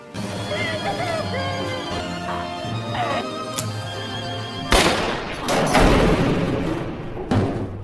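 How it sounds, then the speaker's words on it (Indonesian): A loud gunshot from a film scene of a man shooting himself in the head, bursting out over a dense musical soundtrack, followed by crashing impacts and a second sharp blast near the end. "bunuh diri dengan cara menembak kepalanya sendiri"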